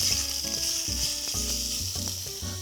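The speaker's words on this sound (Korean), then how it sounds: "겉면이 하얗게 익을 때까지 한 3분 정도 중불에서 볶아주세요" Pork sizzles steadily in sesame oil in a hot stainless steel pot over medium heat, a close, continuous crackle with occasional stirring, and faint tonal background music underneath.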